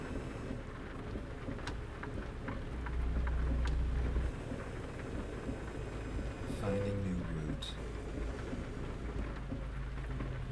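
Steady rain hisses throughout inside the American Truck Simulator game, with a rumbling truck engine underneath, a brief low swell near the middle and someone talking over it.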